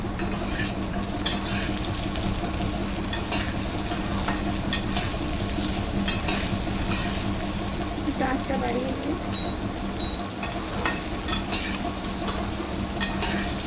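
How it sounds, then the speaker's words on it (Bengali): Soaked, steamed potatoes frying in a wok, a steady sizzle running throughout with occasional scraping stirs, while someone talks over the cooking. "এটাকে হালকা করে ভেজে নেব।"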